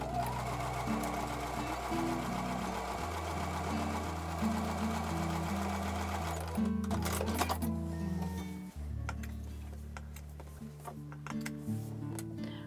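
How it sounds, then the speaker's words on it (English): A sewing machine runs steadily, stitching quarter-inch seams on pieces for a combination star quilt block. The motor whirs continuously and close up, with a faint ticking rhythm throughout and no voices. "So I'm going to take those over to a sewing machine and sew with a quarter inch seam allowance."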